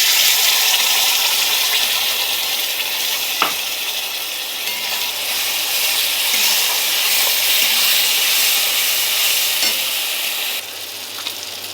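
Ground cashew, raisin and poppy seed paste fries in hot oil with chopped onions and tomato for rui posto, a loud, steady close-up sizzle and hiss that runs throughout with occasional clinks.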